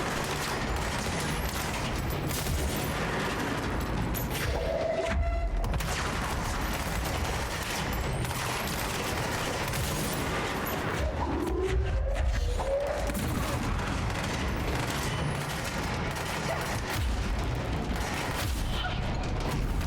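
Rocket explosions and heavy gunfire in the video game Control, a continuous barrage of booms and blasts layered over a dense, rumbling combat din.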